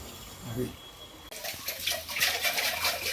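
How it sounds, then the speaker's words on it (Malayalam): Water pours and splashes as cooked rice is drained, starting abruptly after a quieter opening with faint voice, then a continuous splashing gush of moderate loudness. "അരി വേവായി ഇനി അത് വാർക്കണം"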